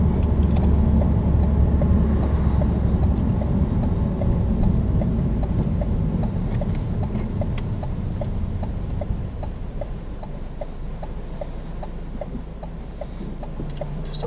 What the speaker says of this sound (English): Now burst the speed, then you can bring your clutch all the way up. Second gear straight away.